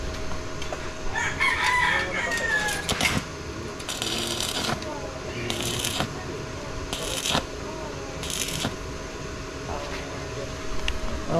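A rooster crows several times in bursts at a house construction site, the calls ringing out amid background clatter and people talking nearby.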